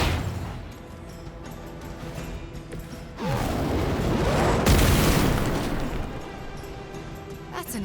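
A loud detonation erupts in Midnight Suns, a swelling explosive burst with a rushing, rumbling blast that peaks and then slowly fades into ambient game sound.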